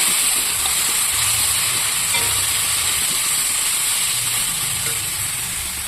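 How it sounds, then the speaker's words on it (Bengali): Mango pieces frying in a pan with dried red chillies and fennel give a loud, steady, close sizzling hiss that runs unbroken throughout, with no voices. "আমি কিন্তু আমটা খুব সুন্দর করে ভেজে নিচ্ছি, ভাজতে ভাজতেই আমটা কিন্তু গলে যাবে"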